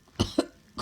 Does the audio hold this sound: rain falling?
no